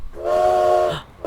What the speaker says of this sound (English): we got another freight train coming.